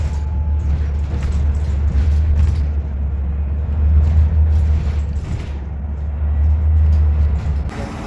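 A London route 108 bus drives through the Blackwall Tunnel, its engine droning loudly and steadily throughout with a deep rumbling hum and roaring tunnel noise, no voices.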